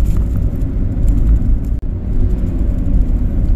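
A car drives slowly through streets in Ballarat, Australia, while looking for parking, heard from inside as a loud, steady low engine and road rumble with a brief dip midway.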